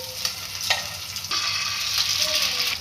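Eggs frying in hot oil in a pan, a steady close sizzle and crackle with a few sharper pops and stirring scrapes, no talking.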